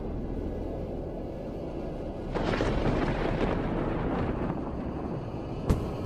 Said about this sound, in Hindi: एक रात तो जोर से आंधी आने लगी, बर्तन गिरने लगे